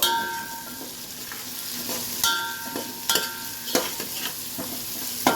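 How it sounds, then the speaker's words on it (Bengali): Corn kernels stirred into frying ginger-garlic paste in a pan for paneer pulao: a steady sizzle broken by several sharp scrapes and clinks of the spoon, close and fairly loud, with no talking. "কর্নটাও এর সঙ্গে নাড়াচাড়া করে নেব"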